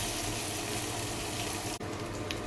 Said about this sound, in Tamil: இப்போ நம்ம தாளித்ததை இந்த சட்னி மேலே கொட்டிடலாம்